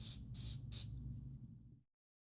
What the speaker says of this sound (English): And then I will spray.